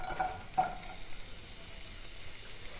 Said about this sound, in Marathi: ह्यात कांदा घालूया।